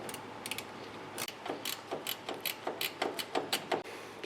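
Quiet, rapid ratchet clicks from a ratcheting wrench turning a nut on a brake master cylinder, in short rhythmic bursts that grow more regular toward the end, with no talking.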